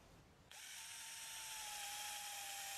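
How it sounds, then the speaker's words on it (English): A power drill starts up abruptly and bores into a palm stem, running at a steady high-pitched whine, close and continuous, with no talking. "drill into the stem with care for 1 centimeter and remove the sawdust"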